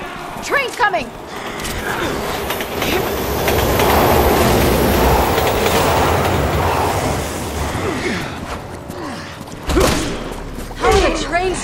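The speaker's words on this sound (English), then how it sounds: "Train's coming!" A train approaches in the video game Resident Evil 6: a rising rumble of rolling wheels and clattering carriages swells to a loud roar, with metallic screeches and squeals. Voices talk briefly over it at the start and end.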